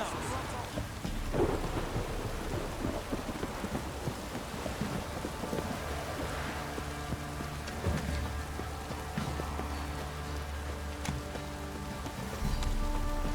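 A heavy downpour with rolling thunder in The Witcher 3 video game, steady dense rain with deep rumbles swelling and fading throughout, no voices.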